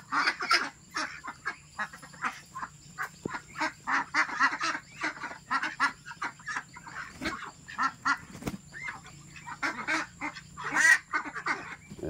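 A domestic duck quacks over and over in quick, uneven bursts, fairly close and clear, with short pauses between the calls and no talking.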